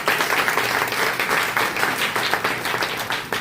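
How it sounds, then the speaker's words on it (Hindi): Crowd applause at a religious gathering in Kanpur welcoming a team from Bihar, dense sustained clapping from many hands with rapid irregular claps, loud and close throughout, with no talk over it. "तो सब तालियों के एक बार स्वागत करेंगे।"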